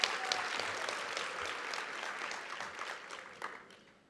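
Applause from an audience at a presidential social sector summit, a dense, steady clapping that fills the whole stretch and thins slightly toward the end, with no talk over it.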